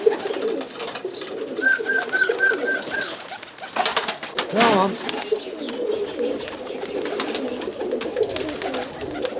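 Roller pigeons coo in a short rhythmic run of soft calls at moderate distance, with outdoor background noise and someone speaking briefly nearby.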